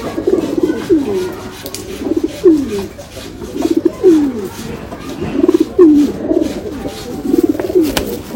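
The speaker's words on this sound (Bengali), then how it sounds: "খুব ছটফটে পায়রা।" Rampuri pigeons, lively adult birds, coo in repeated rolling phrases about every second and a half, close and fairly loud, with no talk over them.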